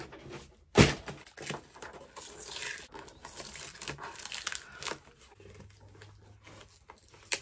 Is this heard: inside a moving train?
no